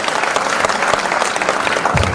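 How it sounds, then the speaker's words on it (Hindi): A crowd at a large youth gathering in Bhopal applauds loudly and steadily, dense continuous clapping filling the space for the whole stretch. "जोरदार ताली बजा दो"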